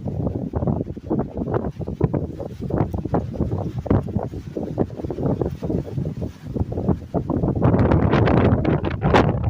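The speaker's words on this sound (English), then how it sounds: "It's so windy" Gusty wind buffets the microphone in rough, uneven bursts, growing stronger and more constant toward the end.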